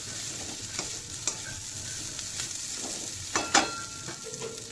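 Potato and bitter gourd fry in a pan with a soft, continuous sizzle, broken by several sharp scraping clicks as a spatula stirs the pieces, all close and fairly quiet.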